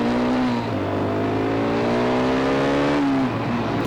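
A KTM 200 Duke motorcycle engine on a ride around East Hull holds a steady, loud buzzing drone with a slight rise and fall in pitch as the throttle shifts, continuous and close throughout.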